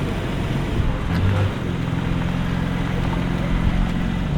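A BMW M3 G80 pulls away with a steady, close engine drone, rising a little as the car moves off, over faint background noise and with no one talking.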